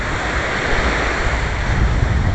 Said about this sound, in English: I learned a certain roar of the ocean